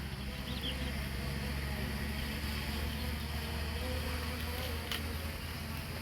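A FIMI X8 drone returning overhead gives off a continuous, fairly faint insect-like buzzing whine with a steady hum beneath it, unbroken from start to finish.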